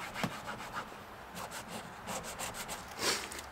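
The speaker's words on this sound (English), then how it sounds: "And just rub it into the plastic." A microfiber cloth rubs ceramic coating into plastic trim, giving soft, close, rhythmic scrubbing strokes in quick repeated passes, fairly quiet and without speech.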